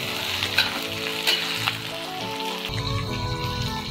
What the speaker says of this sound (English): after the oil is hot, add the onion, scallion, and tomato and fry for a while.